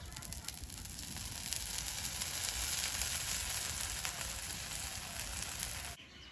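Rice-and-lentil pitha batter sizzles in oil on a pan, a steady bright crackling hiss that holds for about six seconds before cutting off.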